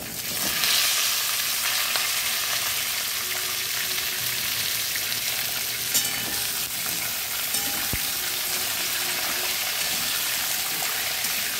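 Vegetables for a vegetarian Malabar spinach dish hit hot tempering in a pan, giving a loud, continuous, dense sizzle that holds steady throughout with no voices.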